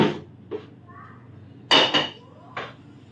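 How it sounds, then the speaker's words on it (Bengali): A freshly washed metal wok clanks as it is set down on a burner, a few separate knocks and rattles with quiet pauses between them. "কড়াই তো ধোয়া হয়ে গেছে, বসিয়ে দিলাম"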